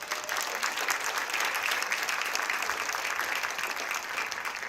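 A crowd in the stands at a Strongsville Mustangs marching band event applauds a newly introduced announcer, making a dense, sustained wash of clapping at even loudness from start to finish.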